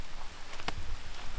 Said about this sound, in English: But the rain is starting to pick up